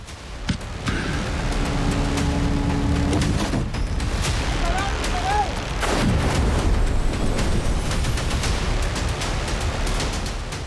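Bomb and artillery blasts in the Thailand–Cambodia war, deep booms and loud bangs spread across a dense, rumbling backdrop, with a whistling sweep partway through and a voice speaking over it.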